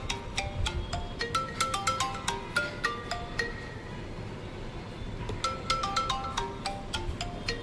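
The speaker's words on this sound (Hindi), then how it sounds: "फ़ोन आ रहा है" An incoming call sets a phone ringtone chiming, a bright tinkling melody that repeats in short phrases, pauses briefly and starts again, fairly faint and with no talking.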